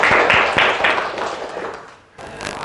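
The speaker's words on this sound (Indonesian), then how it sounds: "Terima kasih, tepuk tangan semuanya." A classroom group claps hands together for a few seconds, a dense patter of applause that thins out and fades, then briefly resumes.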